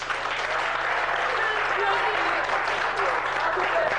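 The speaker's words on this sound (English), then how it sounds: "Ladies and gentlemen, a round of applause again for our speaker." Steady, full audience applause for a speaker at a live news press event, sustained and even throughout with a constant low hum underneath.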